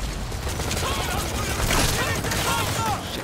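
Dense, continuous gunfire from Metal Gear Solid 5: The Phantom Pain, loud and sustained across the whole stretch, with rapid bursts and mechanical clatter blending into a thick wall of shooting.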